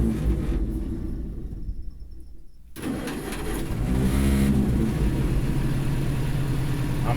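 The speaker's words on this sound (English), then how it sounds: "We're going to start the pony motor back up." Pony motor on a 1955 Cat 12 grader cranking and catching, a loud low rumble after a brief pause that settles into a steady, close-by, rough-running engine drone.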